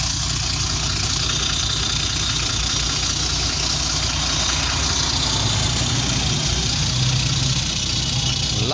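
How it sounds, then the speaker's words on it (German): Mercedes-Benz Citaro city bus idling in Mülheim an der Ruhr, a steady low diesel rumble with a constant hum, loud and continuous throughout with no talking. "Hier können wir nochmal so einen Sound mitnehmen hier von dem Citaro."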